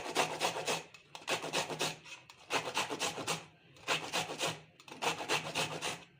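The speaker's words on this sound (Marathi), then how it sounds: "आता आपल्याला हे सर्व आवडे किसून घ्यायचे आहेत" Indian gooseberries (amla) grated by hand for laddu, with six steady bursts of rapid raspy scraping separated by short pauses, close and clear.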